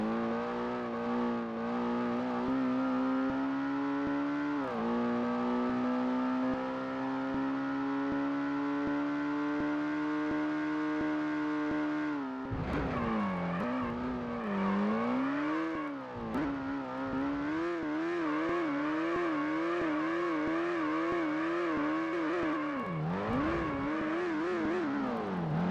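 Car engine in the PS1 racing game Ford Racing, a sustained synthetic drone that climbs steadily in pitch, drops and wavers as gears shift and the revs rise and fall, steady and continuous with no talk.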